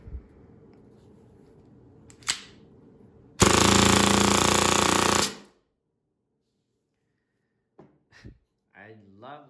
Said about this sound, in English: I love that sound of a fast cycling gas blowback